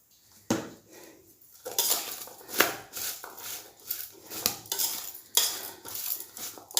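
Asafoetida gets stirred into a mango pickle mixture, with a spoon scraping and clanking against the vessel in irregular close strokes over a faint background.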